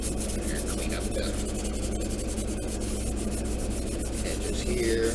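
Steady, continuous abrasive rubbing of sandpaper on the seams of a plastic model kit, close and even throughout, with no voices.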